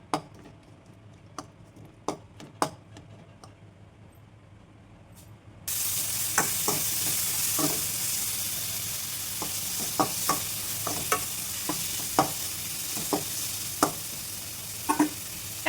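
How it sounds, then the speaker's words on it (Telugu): Okra frying in a pan with tomato and chili powder, a soft sizzle that swells into loud hissing partway through, punctuated by repeated sharp clicks of a utensil stirring and scraping, close up with no voices. "టమాటా వేగాక డైరెక్ట్ ఇప్పుడు బెండకాయ వేసుకుంటే సరిపోద్ది"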